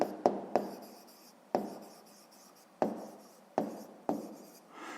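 A pen writes an answer by hand on paper in a math exercise, seven or so short sharp scratching strokes with brief pauses between, close and quiet, no voices.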